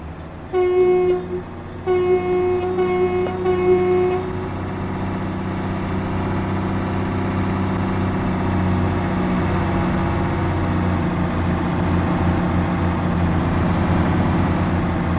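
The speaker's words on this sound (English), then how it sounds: "here's a Class 220 departing Exeter St David's, dead running into Penzance" A Class 220 diesel train in Train Sim World 6 departs Exeter St David's on the Riviera Line, sounding two loud horn blasts near the start over a steady engine drone that continues to the end.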